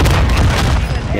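A grenade launcher fires in a battle royale video game: a loud, close, heavy boom fills the whole moment and dominates the short burst.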